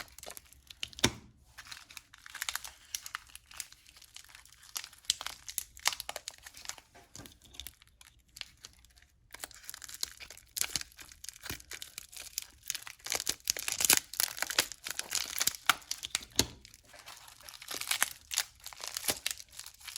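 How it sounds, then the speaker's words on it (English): Crinkly snipping and crunching of scissors cutting paper, with irregular cutting strokes that come in bursts, fairly close and continuous throughout. "I need better scissors apparently because it's not cutting right."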